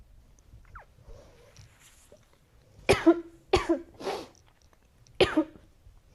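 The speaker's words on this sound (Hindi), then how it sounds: "चॉकलेट लग गई गले में, इसीलिए खांसी आने लगी।" Four sharp coughs break out close by, three in quick succession and one more a moment later, after a near-silent stretch.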